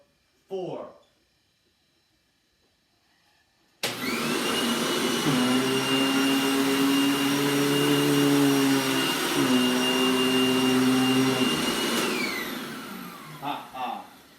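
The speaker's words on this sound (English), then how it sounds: "Now it's time for vacuum number" After a brief voice and a few seconds of quiet, a household vacuum cleaner starts suddenly and runs loud and steady with a droning motor whine, its pitch dipping briefly midway, then shuts off and spins down.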